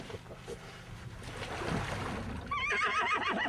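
A horse lets out a loud, wavering whinny in the final second, rising out of quieter rustling and background noise that fills the first part.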